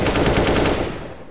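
Rapid AK rifle fire in Counter-Strike, a loud close burst of evenly spaced shots that fades out with a ringing tail.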